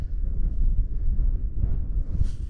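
Wind buffets the microphone outdoors on the Bewcastle Fells, a loud, rumbling low roar that gusts continuously with no voices.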